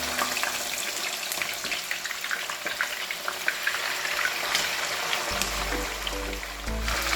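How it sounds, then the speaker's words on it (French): Salmon fillet frying in a pan, a continuous close crackling sizzle with scattered pops throughout, joined near the end by a low rumbling hum; nobody speaks. "nous allons passer à la friture de notre poisson."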